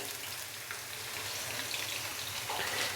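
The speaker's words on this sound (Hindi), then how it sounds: "प्याज को अच्छे से फ्राई कर लेंगे" Chopped onions fry in a pot, a soft, steady crackling sizzle heard alone and fairly quiet for a few seconds.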